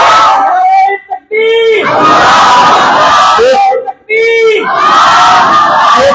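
A large crowd at a Punjabi religious rally roars a loud, unified chanted response in two long bursts, each following a brief pause, with no lone voice standing out.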